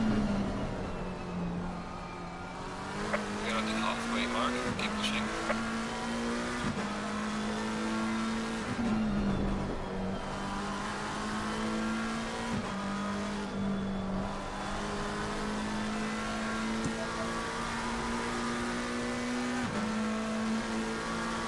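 McLaren 720S GT3 race car in Assetto Corsa Competizione at the Nürburgring Nordschleife, its engine droning steadily at high revs with brief dips and rises through gear changes and corners, loud and sustained throughout.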